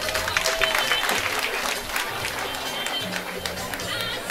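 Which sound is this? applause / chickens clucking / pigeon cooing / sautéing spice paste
applause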